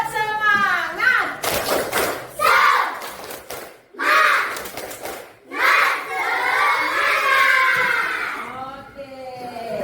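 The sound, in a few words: class doing the tepuk semangat clapping chant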